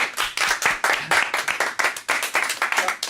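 A small group of people claps briskly in quick rhythmic bursts, loud and close, with no talk over it.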